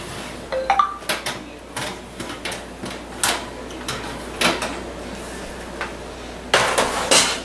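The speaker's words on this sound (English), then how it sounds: "So let's pull them out of the oven and see what we got." Slow-cooked pork ribs in a pan come out of an oven with sharp metallic clanks, clicks and scrapes scattered through the stretch, including a denser clatter near the end, all close and moderately loud.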